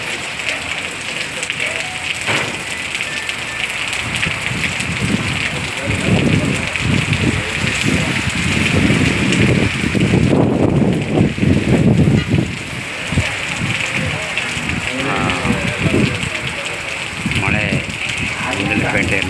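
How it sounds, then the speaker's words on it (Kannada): Heavy rain pouring along a road near Mysore in Gundlupet, a dense steady hiss of downpour throughout, with someone talking over it in the middle. "ಮಳೆ ಸುರಿತಾ ಇದೆ"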